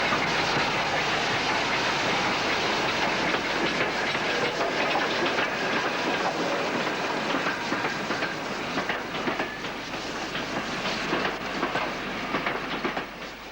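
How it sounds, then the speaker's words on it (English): Somerset and Dorset 7F steam locomotive number 13809 rolling past at a heritage railway, a broad hissing, rumbling wash of steam and wheels with rhythmic clatter, steady and fairly close, no voices. "Somerset and Dorset 7F number 13809 steams by the site and"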